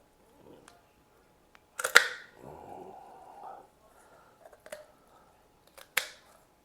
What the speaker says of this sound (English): pretty tough to get through, but with the kitchen shears, you got to be able to do it without too much problem